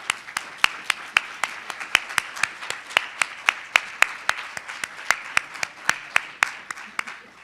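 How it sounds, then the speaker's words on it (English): Audience applause at the Building OneSouthCarolina Forum for staff, donors and community partners: sharp, evenly spaced claps ring out in a quick steady rhythm over a softer background patter, with faint voices underneath. "Round of applause."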